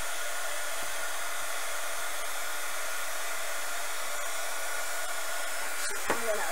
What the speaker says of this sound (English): put the heat tool on it.